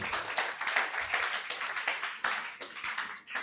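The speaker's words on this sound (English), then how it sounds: "Can we give our panelists a round of applause this morning?" A conference audience at a leadership colloquium gives a panel a round of applause, steady broadband clapping from many hands filling the room, moderately loud and without speech.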